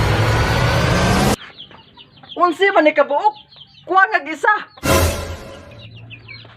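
Chickens cluck in short, wavering bursts in a yard, framed by loud broadband noise at the start and end, with a person speaking nearby.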